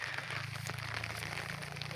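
Rain falls steadily outdoors where a young colt is shown for sale, a continuous close hiss with a low hum beneath it and no voices.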